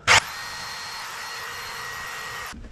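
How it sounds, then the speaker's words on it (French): A power drill bores into an old wall near a lintel during a renovation, a loud steady whine holding for over two seconds after a sharp initial burst, then cutting off abruptly. "Donc je vais percer ici pour voir, pour pouvoir savoir de l'autre côté où arrive mon linteau."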